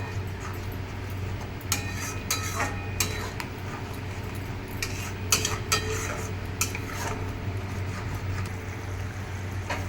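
Green soybean is stirred and fried in a pan, with a metal spatula clinking and scraping against the pan in scattered bursts over a low, steady background hum.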